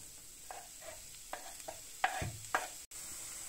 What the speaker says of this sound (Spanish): Con la sartén caliente echamos un chorrito de aceite de oliva y sofreímos el puerro.